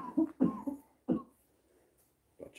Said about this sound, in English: If you hear coughing, it's the ghost.